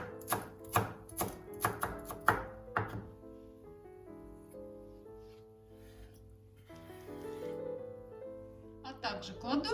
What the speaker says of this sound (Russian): Я порежу мелко пару веточек ароматного укропа.